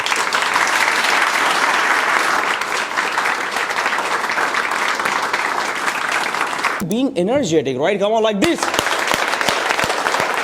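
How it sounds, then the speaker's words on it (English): Participants in a confidence-building workshop clap for themselves, a loud dense burst of group applause that runs on, broken briefly by a speaker's voice before the clapping resumes. "clap for yourself, everybody."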